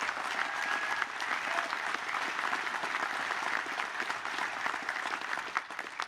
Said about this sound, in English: let's give a round of applause for Boston